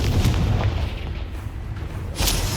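Confringo blast spell in Hogwarts Legacy erupting in a deep, rumbling boom that sustains as a heavy roar, with a second sharp burst near the end.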